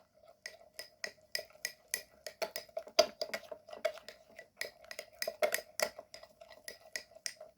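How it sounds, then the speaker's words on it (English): A spoon stirs a homemade honey face mask mixture in a bowl, with quiet, rapid clinks against the sides in an uneven, continuous rhythm, close by and with no talking. "And now mix the ingredients very well."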